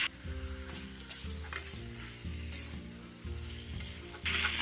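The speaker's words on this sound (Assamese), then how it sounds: "অলপ দেৰি ভাজি ল'ম।" Cut potatoes fry in oil in a pan for an Assamese fish curry with tomato, giving a steady close sizzle broken by repeated scraping stirs, with the frying growing louder near the end.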